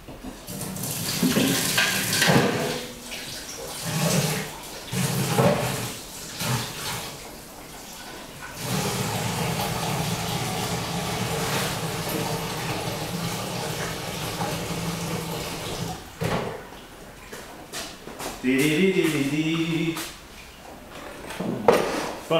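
A kitchen or studio tap runs steadily for several seconds in a pottery workshop, a continuous nearby rush of water that stops abruptly, framed by brief clatter and handling sounds before and after.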